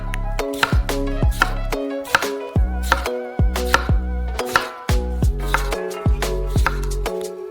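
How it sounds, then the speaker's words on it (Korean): A knife slices a tomato into rounds for a pizza topping, with a steady series of close, crisp chops on a board, evenly spaced with short pauses between strokes. "토핑으로 토마토를 원형으로 썰어주세요."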